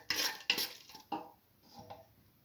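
Spoon stirring red lentil and bottle gourd stew in a metal pot: a few sharp scraping clinks and knocks at uneven intervals, close and fairly quiet.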